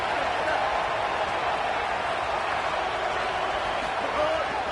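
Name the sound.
Texas Tech Red Raider football stadium crowd roaring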